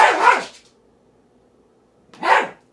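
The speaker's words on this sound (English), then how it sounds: "the dog is chasing the cat" A dog barks twice, sharp and close, with a pause of about two seconds between the barks as it chases a cat indoors.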